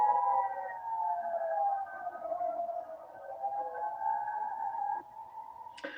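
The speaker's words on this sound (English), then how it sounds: "Those sirens in Israel," A long wailing air raid siren in Israel holding a steady, slowly wavering tone, fairly loud and continuous, with a brief click near the end.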